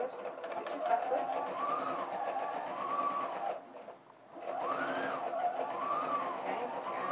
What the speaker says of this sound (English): foot down, needle in my work, stitches forward, stitches backwards